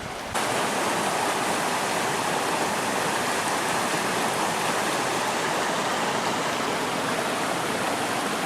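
A forest stream flows beside a small beach along Skalkaho-Rye Road in Bitterroot National Forest, its water rushing in a steady, dense hiss and burble that holds constant throughout with no voices.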